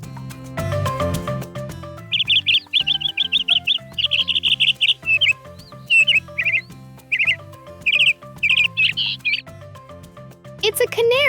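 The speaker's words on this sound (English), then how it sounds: "Canaries are tiny birds that sing beautiful songs." A canary sings in quick repeated bright chirps and trills, phrase after phrase over soft background music.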